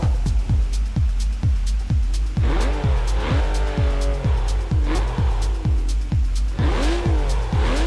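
A Pagani Zonda-style supercar driven in the racing game Test Drive Unlimited Solar Crown, with a loud engine droning and pulsing in rapid regular bursts, plus whining tire squeals and rising revs partway through.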